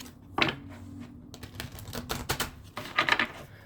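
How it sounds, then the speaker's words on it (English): Close, crisp riffling of tarot cards being shuffled, a couple of quick bursts with light tapping and handling between them. "All right, one more shuffle."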